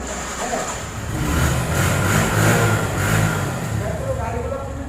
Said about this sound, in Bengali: সাইলেন্সারের সাউন্ডটা দেখেন